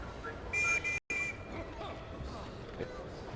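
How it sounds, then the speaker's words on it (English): A short, shrill whistle blast in the video game Stacking, lasting about half a second over steady game background sound, followed by a brief dropout to silence. "blow a whistle."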